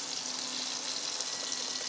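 Food sizzling in a hot pan on a kitchen stove, a steady crackling hiss with fine popping, close by and continuous, with no talk over it.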